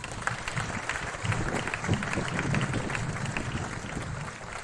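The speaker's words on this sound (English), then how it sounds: "So let's give that group of girls a round of applause." Audience applause for a girls' sports team at an awards gathering, a moderate wash of clapping with crowd noise, fairly steady and not very loud, with some low murmuring underneath.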